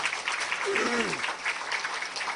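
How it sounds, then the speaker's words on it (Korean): A church congregation gives a round of applause for a member just discharged from hospital, a dense steady clatter of many hands with a voice rising briefly through it. "박수 한번 하십시다"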